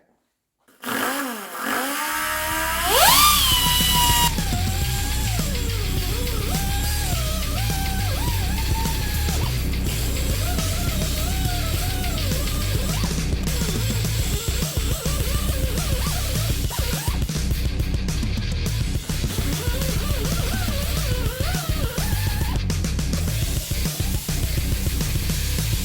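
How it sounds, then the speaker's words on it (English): An air-powered cutoff wheel starts up with a rising whine, then grinds and cuts through aluminum sheet in a loud, continuous, close-up screech with wavering pitch as the wheel bites the metal. "I'm going to use the cutoff wheel file, some other random air tools here."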